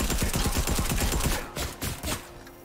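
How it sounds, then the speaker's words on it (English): Rapid automatic gunfire from an SMG in Fortnite rattles in a fast, dense burst for over a second, then a few scattered shots and thumps trail off. "So while you are shooting them"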